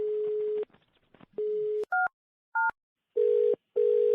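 Phone line tones during a prank call: a steady dial tone, two short dual-pitch keypad beeps, then loud pulsing busy-signal bursts, all close and clear with no one speaking.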